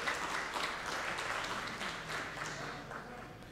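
A mushaira audience in Pune claps in a dense, steady wash of applause that holds evenly for a few seconds.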